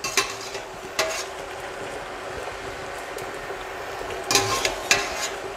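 Pasta being stirred into a frying pan of sauce while cooking pasta alla norcina, with a steady low sizzle throughout and a few sharp scraping and clinking bursts from the utensil against the pan.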